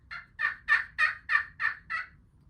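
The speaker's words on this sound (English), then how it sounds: "maybe he gobbles again, he's even further away" Wild spring gobbler sounding off from a distance, a single rapid gobble of about seven rattling pulses, fairly faint and alone in a quiet outdoor setting.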